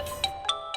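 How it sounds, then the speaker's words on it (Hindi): A phone rings late at night, giving a short run of three evenly spaced electronic chirps over a steady tonal hum. The sound is close and moderately loud. "इतनी रात को किसका फोन?"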